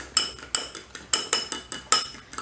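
A spoon knocks against a bowl while mixing fudge pie filling, a regular series of about eight sharp metallic clinks and scrapes, close and distinct, without any speech.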